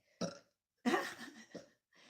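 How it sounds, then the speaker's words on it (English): A woman burps loudly in front of a group, a sharp close belch followed by a longer, gravelly one and a brief third burst, with short silences between. "She burped in front of everyone."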